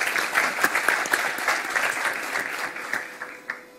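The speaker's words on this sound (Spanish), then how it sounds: "Muchas gracias por aplausos." Conference audience applauding, a full, continuous clatter of many hands that thins slightly toward the end.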